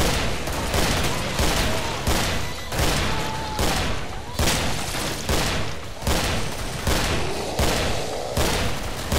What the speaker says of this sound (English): Shooting going off.